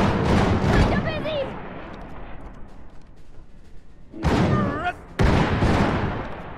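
Gunfire and booming blasts in the Iron Harvest war game, heavy bursts at the start and near the end with talk running between them.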